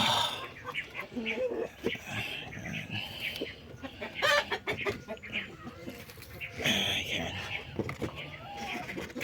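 Chickens, some sick with fowl pox, cluck and squawk nearby in irregular bursts, with people talking over them.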